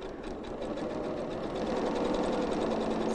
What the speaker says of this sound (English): it's always a good idea to sew both sides in the same direction